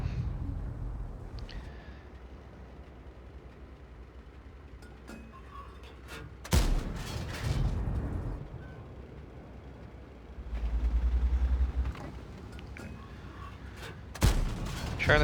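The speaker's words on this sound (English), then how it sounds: "we're just gonna take a few blind shots here" A tank cannon fires blind shots in an online tank battle game, two sharp booming reports a few seconds apart, each with a rumbling tail, over low engine drone and no speech.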